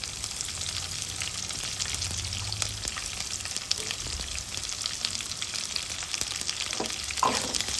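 Chopped onion frying in oil for a cucumber curry makes a steady, close crackling sizzle throughout, with occasional soft stirring scrapes and no talk.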